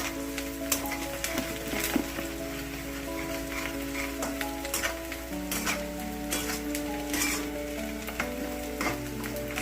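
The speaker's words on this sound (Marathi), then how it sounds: "कांदा आपल्याला छानपैकी हलवून घ्यायचा आहे" Onion frying and being stirred in a kadhai with peanuts, a steady loud sizzle with scraping stir strokes throughout and no talking.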